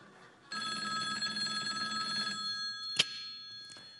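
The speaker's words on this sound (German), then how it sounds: "Ah, Telefon." A telephone bell rings steadily for about two seconds, a bright sustained trill, then stops; a sharp click follows soon after.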